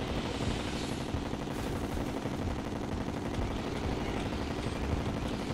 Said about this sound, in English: Firing my lasers!